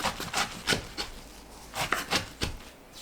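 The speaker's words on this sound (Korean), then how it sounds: "반대 방향 3cm 간격으로 썰어주세요." A knife chops garlic chives on a cutting board in close, crisp thuds, about ten strokes in quick uneven bursts with a short pause midway.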